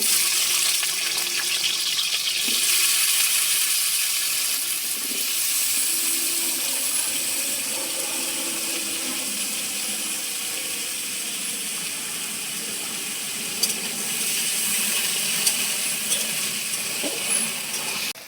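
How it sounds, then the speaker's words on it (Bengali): An even, crackling hiss of small diced potatoes frying in oil, close and constant, with a faint clink or two near the end. "ছোট ছোট করে যে আলুগুলো কেটে রেখেছিলাম সেগুলো এবার ভেজে নেবো"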